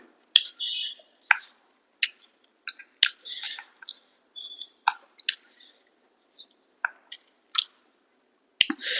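Close, wet chewing of desi chicken curry with rice: irregular soft squishes and small smacking clicks spread through the clip, alone with no talk.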